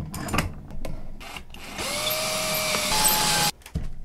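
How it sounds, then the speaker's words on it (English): A power drill bores into a clamped guitar neck, whining up and down in short bursts before a long sustained run close by, then stopping briefly and restarting. "drill right into the neck."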